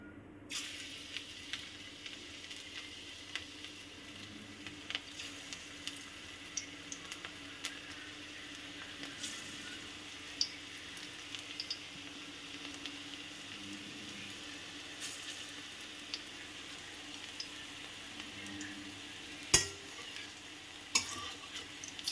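Batter-coated bitter gourd pakoda frying in hot mustard oil in a wok gives a soft, steady sizzle with scattered light ticks and stirring clicks, quiet and close, with one sharper knock near the end.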